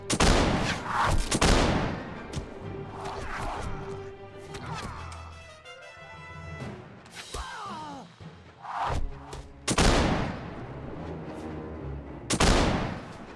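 Gunfire and explosive crashes in the video game Warsword, heavy booming blasts spaced through the scene with rattling bursts between them, close and loud, with no talk over them.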